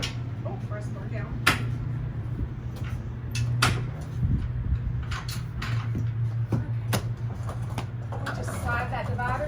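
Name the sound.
horse trailer head divider sliding on track and latching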